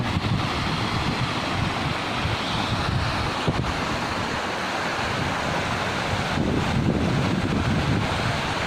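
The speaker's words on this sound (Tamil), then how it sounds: "இது தண்ணி ஓடுற" Continuous rushing water roars loudly and steadily in Eravikulam National Park, with heavy wind buffeting the microphone throughout.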